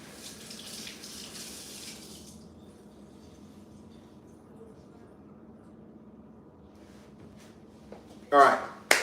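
Tap water runs into a sink as someone washes their hands in a home kitchen, a soft steady stream that fades after a couple of seconds into quiet, followed by a few faint clinks and a short burst of noise at the end.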